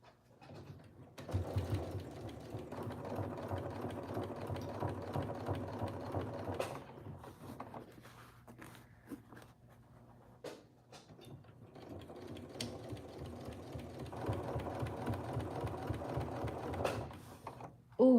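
A sewing machine top-stitches a denim corset in two long, loud runs of rapid mechanical whirring, separated by a quieter stretch of small clicks and handling noises.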